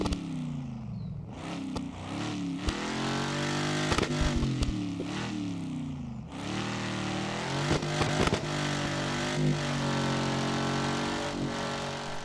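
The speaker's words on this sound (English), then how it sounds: "just listen to how good the car sounds now" A video game race car engine revs hard and climbs through the gears, loud and close, with a roaring, buzzing tone that surges and drops with each shift.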